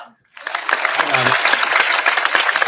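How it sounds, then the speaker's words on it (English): Broadband applause sound effect from a soundboard starts after a brief silence and continues steadily, loud and dense, with a short low hum mixed in near the start. "I was looking for applause, but I don't normally do the soundboard."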